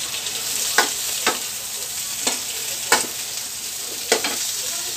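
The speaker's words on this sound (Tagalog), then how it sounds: "ilagay na natin yung chicken liver and chicken gizzard." Chicken liver and gizzard stir-frying for adobong okra, producing a strong, steady sizzle punctuated by five or six spaced scrapes of a utensil across the pan.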